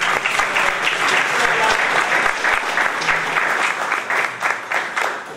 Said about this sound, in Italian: Perfetto, facciamo un applauso.